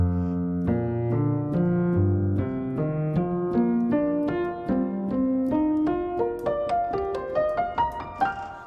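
A microtonal nine-note scale that does not repeat at the octave climbs slowly, one sustained tone after another, each note ringing into the next with no talking.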